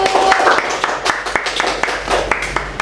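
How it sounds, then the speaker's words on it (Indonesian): A few students clap for a group in a school classroom during an Islamic religion lesson, giving sparse, uneven claps with a voice briefly audible at the start. "Tepuk tangan untuk kelompok 1."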